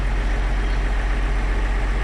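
A John Deere 6900 tractor engine warming up at idle, a steady, close, heavy low-frequency drone with an even throb and no voices.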